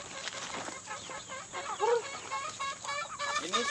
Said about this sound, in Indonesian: Ini sudah dikurung ayamnya